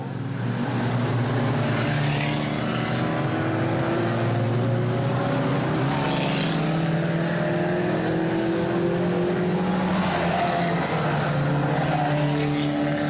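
Ministox stock cars racing at a Warton Stock Car Club meeting, several small engines droning and revving together, with engine pitches rising and falling as the cars pass, loud and continuous and free of speech.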